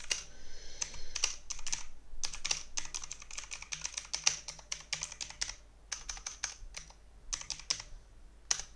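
Close, steady clatter of keys being typed on a computer keyboard to write a chat message during a PUBG session, coming in quick uneven bursts separated by brief gaps, with no voices over it.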